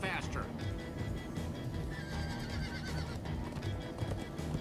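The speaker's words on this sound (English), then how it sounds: "Horses. Horses, everybody." Horses neigh and whinny in a Minecraft movie scene, loud and dense under talking voices and busy background sound, with hoof clip-clop mixed in.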